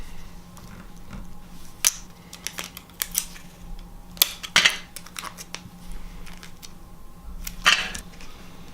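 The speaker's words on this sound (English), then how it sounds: "Let's throw some tape on here." Tape pulled and applied for a quick fix, with sharp ripping and tearing bursts and crinkly clicks scattered irregularly, close and moderately loud over a faint steady hum, no talking.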